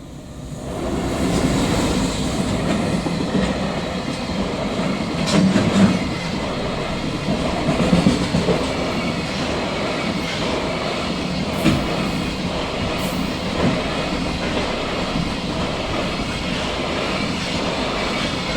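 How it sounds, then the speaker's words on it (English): A heavy freight train rolls past a crossing at length, a continuous loud rumble with faint rhythmic wheel clatter and a few sharp clanks along the way. "I think this is a freight train."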